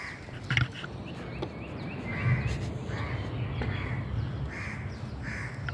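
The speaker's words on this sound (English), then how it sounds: "Only crows are allowed." Crows caw repeatedly outdoors in Sentul, Kuala Lumpur, several harsh calls at mid distance over steady urban background noise.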